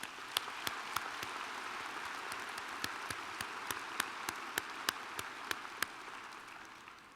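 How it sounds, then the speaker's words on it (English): A commencement audience claps in a round of applause, a steady wash of many hands with a few sharper individual claps standing out. It sounds fairly distant and soft, with no talking over it. "Would you please join me one more time in a round of applause for our Chancellor?"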